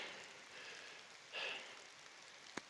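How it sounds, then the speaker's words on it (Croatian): Faint, steady patter of winter rain falling in a forest, with a brief swell of hissing and a single sharp drip-like tick near the end. "Naravno zima je, kiša pada, jel?"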